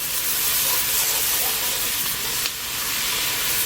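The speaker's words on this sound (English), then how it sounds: "now that my onions have sauteed for a couple of minutes" Salted onions sauté in a pan over a burner turned up to high, producing a continuous close sizzling hiss that holds steady throughout, with no talking.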